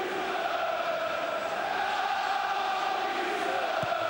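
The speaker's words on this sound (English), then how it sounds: "Crowd making a lot more noise now." Football stadium crowd at a Tottenham Hotspur match in the 2007-08 season, a steady, broad roar of many voices that holds at an even level throughout without individual shouts standing out.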